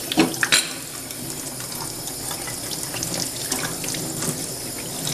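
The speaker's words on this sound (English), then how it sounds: "wash it out with water." Tap water runs continuously into a sink while scallions are washed under it, a steady splashing hiss with a few brief clinks and bumps near the start, close and unaccompanied by talk.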